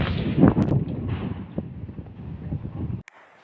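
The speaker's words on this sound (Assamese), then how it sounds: "পুৰা বতাহ দি আছে" Wind rushes over the microphone outdoors at a stand, a steady rumbling gust lasting about three seconds before cutting off abruptly.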